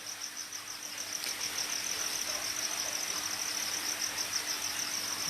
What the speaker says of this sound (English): crickets are pretty much some of the only things active right now.